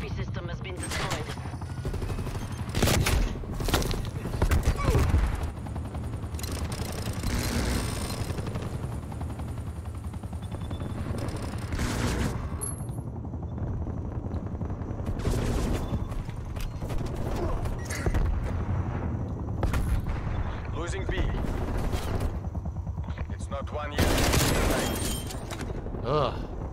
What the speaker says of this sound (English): He fired for a good 6-7 seconds straight without ever interrupting